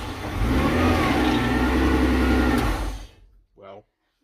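A 700hp Nissan March engine catches after cranking and runs loud and rough for about three seconds, then cuts out abruptly, followed by a brief dull knock.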